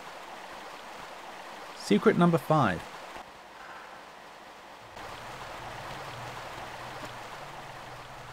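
Waterfall in the Lost Valley level of Tomb Raider 1: a steady wash of rushing water noise throughout, briefly broken by a short burst of game speech and then a deeper rumbling layer joining later.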